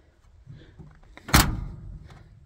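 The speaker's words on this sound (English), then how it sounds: "This door always closes super nice." The door of a 1971 Dodge D200 Sweptline pickup truck swings and shuts with a single solid, loud slam close by, followed by a brief fading rumble, with no talk.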